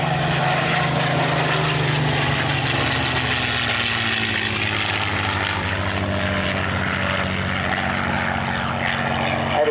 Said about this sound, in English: the two P-51s